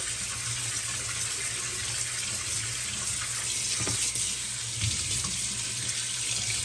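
An air conditioner filter soaks in water from a running tap, with a steady, even stream of water splashing and filling for the whole stretch, fairly close, with no voices.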